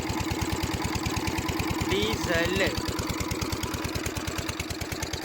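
A diesel farm machine engine runs steadily and loudly close by, with a fast even thump throughout, and a brief voice is heard under it midway.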